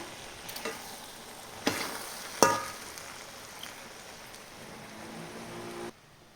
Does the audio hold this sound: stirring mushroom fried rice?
yes